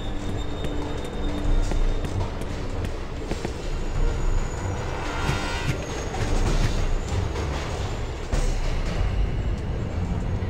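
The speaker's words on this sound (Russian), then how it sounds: "На путь С прибывает поезд." A video game train rumbles into a station, low steady roar with metallic wheel squeals and clatter, continuous and fairly loud throughout.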